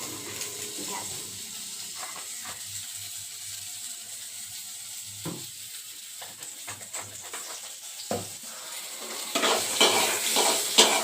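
Pointed gourd (potol) bhaji stir-fries with a low, steady sizzle under sharp scrapes and clanks of a spatula against the pan, growing louder and busier toward the end, without talk.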